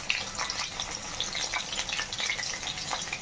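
Fish sizzles and crackles in hot oil, a steady, close spattering hiss with no talking.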